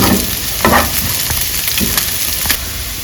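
Garlic and slit green chillies sizzle in hot oil while being sautéed for a chicken starter, a steady close frying hiss broken by a few stirring scrapes and crackles, with no talking.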